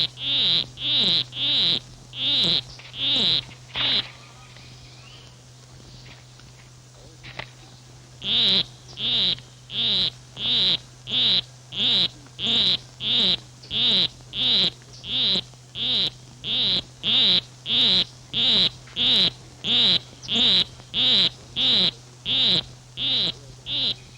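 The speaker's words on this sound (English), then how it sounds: "A male poison arrow frog is courting a female. With his monotonous song, he will try to entice her to follow him" A male poison arrow frog courting a female repeats a monotonous, high chirping call in steady rapid pulses, with a brief pause before the series resumes, loud and close with no talk.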